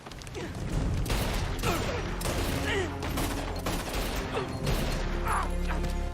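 Gunfire in a TV drama scene, with rapid overlapping shots and mechanical clatter amid a dense, busy soundtrack, and voices mixed into the action.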